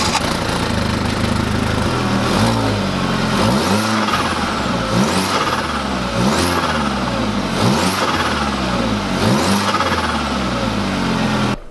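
The engine of an Audi B6 A4 with a cat delete warms up outdoors, a loud, continuous rumbling drone with repeated rising and falling rev swells through the middle.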